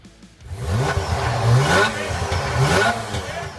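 Norton F1 motorcycle engine from the 1980s, revving up in two or three rising surges, close and loud, with a gritty mechanical edge and no voices.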